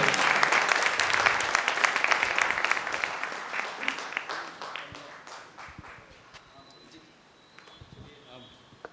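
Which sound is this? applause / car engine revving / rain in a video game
applause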